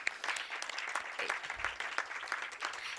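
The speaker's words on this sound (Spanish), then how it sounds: "los despedimos con un fuerte aplauso a ambos" Applause from a conference audience as two panel speakers finish at an electoral justice event, a dense, steady wash of many hands clapping that continues throughout without a break.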